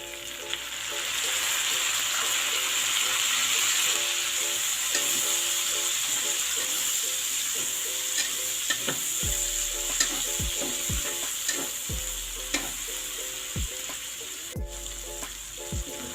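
Garlic, onion and tomato sauté in a pan for chicken afritada, giving a steady, loud sizzle with a constant frying hiss, broken near the end by a few sharp clicks and scrapes of stirring.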